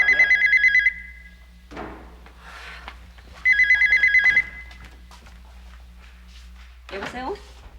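A telephone rings twice with electronic trilling bursts separated by a pause, while people talk briefly between and after the rings.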